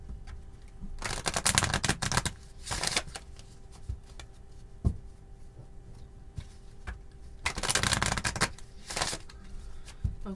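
Tarot cards are shuffled close by in several quick riffling bursts separated by quieter pauses, with a few soft taps between them.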